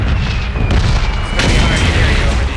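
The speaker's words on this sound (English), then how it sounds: "It's gonna be hard to hear you over the explosions," Heavy booming explosions with sharp bursts and a lingering roar, loud and close, mixed with a faint high whine and voices beneath.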